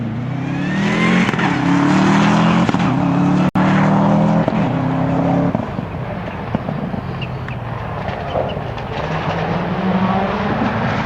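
Subaru Impreza rally car on a rally stage at Rally Rushmoor 2005, its engine roaring loudly and steadily up close with rising and falling revs and a sharp crack partway through, then fading slightly as it pulls away.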